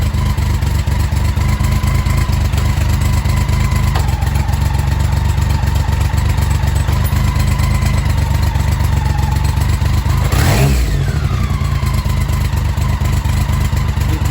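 A BMW K series motorcycle engine running steadily at a close, loud idle, with a brief rev or sweep midway before settling back to the even rhythmic drone.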